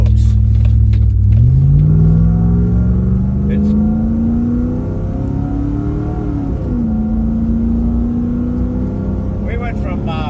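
A Land Rover Discovery with a 4-liter engine accelerates on the road, its engine tone rising steadily and settling into a strong cruising drone, while someone talks over it.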